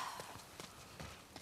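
A horse's hooves clip-clop in The Last of Us Part II, a few soft, irregularly spaced footfalls over a quiet background, faint and somewhat distant.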